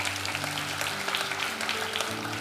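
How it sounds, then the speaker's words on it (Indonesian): A church congregation claps hands during a sermon, a continuous crackling patter from many people against a faint hum. "Ya ini baru tepuk tangan"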